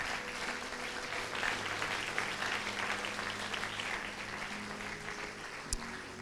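A church congregation applauding together during a worship service, a dense, sustained wash of many hands clapping at moderate distance throughout, with no voices over it.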